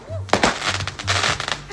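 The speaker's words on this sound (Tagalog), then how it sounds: "Ang ganda talaga ng paputok ko." New Year's Eve fireworks and firecrackers explode close by in a rapid series of sharp cracks and pops, with a low steady hum beneath and people's voices around them.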